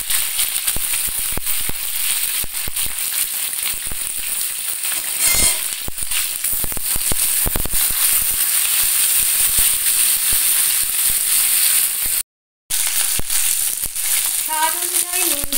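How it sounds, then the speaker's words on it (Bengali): Flat bean pieces frying in a pan with mustard seeds and dried chili, a steady dense sizzle running throughout with faint stirring rattles and a brief dropout near the end. "সর্ষে এবং শুকনো লঙ্কা ভেজে নেওয়ার পরে কেটে রাখা শিমের টুকরোগুলো দিয়ে দিতে হবে"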